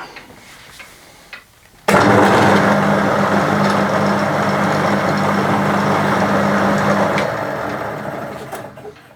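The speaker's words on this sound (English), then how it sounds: "Now it's time to drill the pivot." A drill boring the pivot hole through an empty CO2 cartridge for a mini spinner target, a sudden loud start followed by a sustained steady whine and grind that slowly tapers off near the end.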